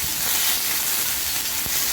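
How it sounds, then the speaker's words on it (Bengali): Pumpkin, potato, pointed gourd and vegetable stems sizzle in a little oil as they are stirred, a steady close broadband crackle and hiss running the whole time with no talking. "আমি এটা ভাজা করে নিচ্ছি।"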